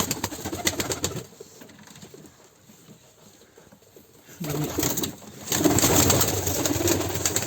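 Pigeons coo softly in a village loft holding Turkish karabaş and akbaş breeds, including a white-legged kara akbaş, with a quiet stretch in the middle and louder fluttering and cooing near the end.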